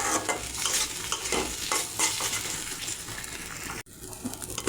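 Spice masala for a duck egg curry sautéed and stirred in a pan, a dense crackling sizzle with repeated scraping strokes of the spoon, close and continuous until it breaks off near the end.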